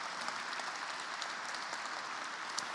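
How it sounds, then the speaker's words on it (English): Audience applause for a panel of speakers at a civic event on the Atlanta Beltline, a steady, even wash of many hands clapping at a moderate distance with no voices over it. "Let's give the panelists a round of applause here."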